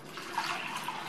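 Water poured into a cooking pan holding soaked moong dal with turmeric, a steady close rushing pour lasting about a second with no talk.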